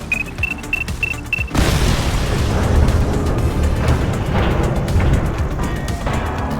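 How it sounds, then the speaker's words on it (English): A loud explosion bursts in The Precinct video game, followed by a sustained, crackling roar of debris and rumble that fills the rest of the clip. Short repeated electronic beeps come just before the blast. "We may not have the time to stop the explosion."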